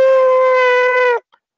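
A single sustained wolf howl, strong and steady with a rich harmonic tone, held for just over a second before cutting off abruptly, heard alone and close.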